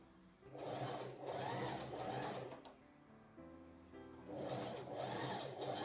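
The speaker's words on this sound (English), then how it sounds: "Continue stitching down the garment opening edge until you reach the hem fold. Pivot and stitch along the hem fold." Sewing machine stitching along the hem fold of a button-front puff-sleeve dress, running in steady rhythmic bursts with a short pause partway through before resuming, close and fairly loud, no talking.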